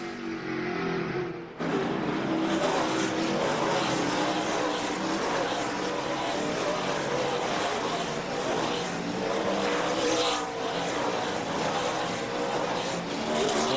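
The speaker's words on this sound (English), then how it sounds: "Hear a lot of wheel spin as we listen to the engines in the cars." NASCAR stock car engines roar continuously on a road course at the 2003 Dodge Save Mart 350, loud and sustained with rising and falling revs as fresh-tired cars spin their wheels, a dense wall of engine noise with no talking.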